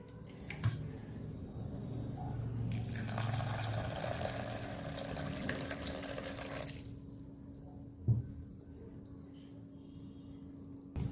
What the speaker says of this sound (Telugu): ఈ పప్పుని పిసికి 7-8 సార్లు ఇలా శుభ్రంగా కడుక్కోవాలండి.